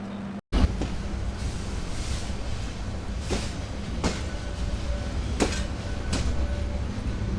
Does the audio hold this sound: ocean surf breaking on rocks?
no